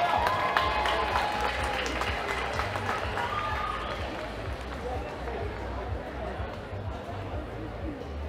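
Outdoor crowd at a Toronto Ukrainian festival applauding a band, steady clapping spread across a wide area with a low music or engine hum beneath and chatter mixed in, holding fairly even throughout.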